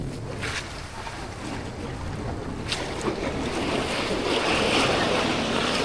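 Sea waves wash in at high tide on a white sand beach in Camiguin with small boats nearby, a steady rushing surf swelling louder over several seconds, mixed with wind buffeting the microphone.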